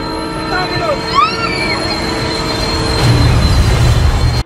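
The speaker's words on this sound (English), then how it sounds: "he was doing so to save her from an oncoming train" A train rumbles close by with high metallic wheel squeals sliding in pitch, and a heavier roar swells toward the end.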